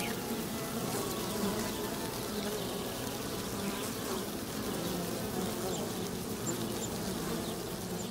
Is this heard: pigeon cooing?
no